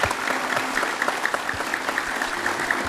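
A studio audience at a television talk show applauds steadily, many hands clapping in a dense, moderately loud patter with faint rhythmic accents throughout.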